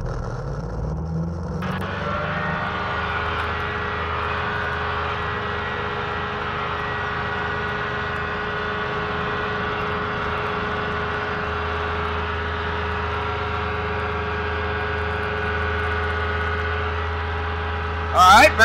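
Challenger II light sport aircraft engine running steadily on runway 27 on a summer day with two aboard and a full fuel tank, a loud, even droning hum heard from inside the cockpit, holding constant throughout.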